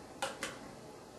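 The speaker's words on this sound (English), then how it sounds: "I'm going to spoon some into our bowl here." A spoon of chicken noodle soup is dished into a bowl, with two quick bright clinks of metal against ceramic close by and a quiet kitchen in between.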